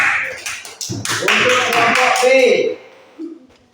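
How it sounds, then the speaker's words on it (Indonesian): Students in a classroom clap for a group, a few quick claps at the start followed by voices talking over a brief, scattered spell of clapping. "Tepuk tangan untuk kelompok A."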